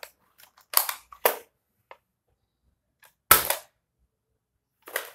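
Nerf Disruptor toy blaster firing, a few sharp snapping pops spaced apart with quiet gaps between, close and fairly loud.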